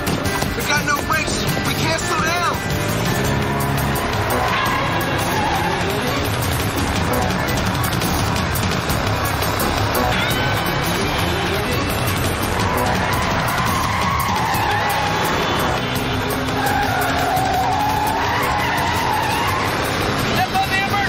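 A car with failed brakes skids through a hard turn, and its tires squeal over a continuous roar of engine and road noise that lasts throughout. Tense voices talk over the sound.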